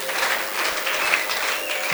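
Church congregation applauds in praise, a continuous bright patter of many hands clapping together, fairly loud and close, with a faint steady tone running underneath and no speech over it.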